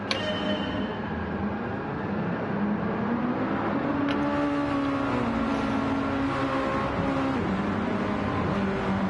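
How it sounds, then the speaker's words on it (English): Race cars from the Gran Turismo 7 video game rolling together on a pace lap around the Northern Isle circuit before the green flag, a steady engine drone with shifting pitch that stays loud and continuous throughout. "as we're going to take a pace lap around, led by Yurt and Perry up front"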